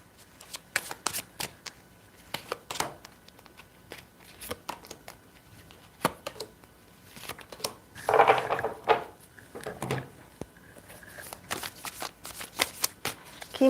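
Tarot cards shuffled for a reading, riffling and sliding in repeated bursts across the whole stretch, louder in the middle, with no talk.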